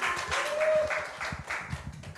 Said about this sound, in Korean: 환영의 박수 부탁드립니다.